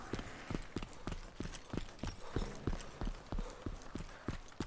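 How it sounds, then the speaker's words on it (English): Footsteps inside a building in the video game DayZ, a steady run of evenly spaced thudding steps, fairly close and clear, heard alone without talk. "I'm hearing footsteps, guys. In the building."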